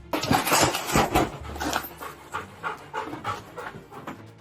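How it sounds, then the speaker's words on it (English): Close, rapid dog panting in rhythmic breathy bursts, loud at first then settling into a quieter steady pant. "the dog is barking insistently near the wall"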